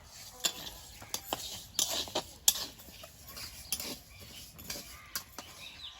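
Mung dal dry-frying in a hot wok, with intermittent light clinks and scrapes of a spatula stirring against the metal, quiet and close, with no talking.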